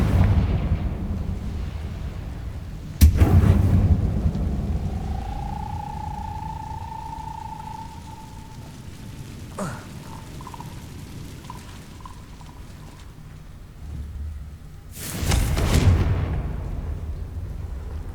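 A Confringo fire spell explodes in Hogwarts Legacy, with two loud, booming blasts several seconds apart, each trailing into a rumble. A faint, wavering whistle-like tone sounds between them.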